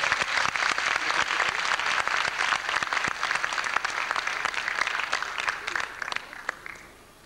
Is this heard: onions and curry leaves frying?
no